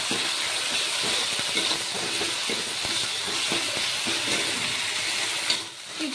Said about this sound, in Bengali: ঢেলে দিলাম তেলে। এবার কিছুক্ষণ ভেজে নেব।